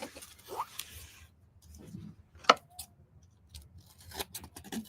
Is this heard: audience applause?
no